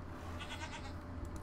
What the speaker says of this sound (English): I like the goats. They're so loud.